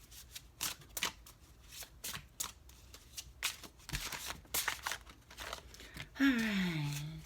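A deck of tarot cards being shuffled up close, with a series of quick crisp riffling and flicking bursts in an irregular rhythm, and a brief voice near the end.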